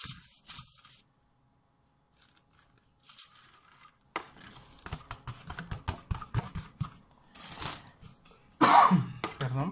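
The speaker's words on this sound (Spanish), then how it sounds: "pero tengo un poquito de tos" A person coughing while preparing easy pastisetas without a piping bag, a few brief throaty coughs near the start, then soft handling and kitchen clatter, ending with a louder burst of close sound.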